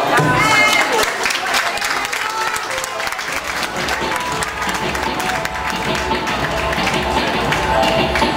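Audience applause fills a restaurant after a woman finishes singing a song at Verde Luna in 2015, a dense, steady clapping that stays loud and continuous throughout with crowd noise mixed in.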